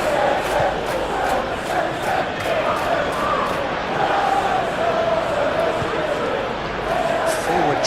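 A stadium crowd in eFootball PES 21 during a simulated Everton vs Manchester City Premier League match keeps up a steady, loud roar that swells slightly at moments, with voices talking over it throughout.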